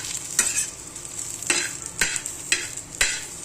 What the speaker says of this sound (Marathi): हे आता हे चांगलं भाजत आलंय चांगलं भाजून द्यायचं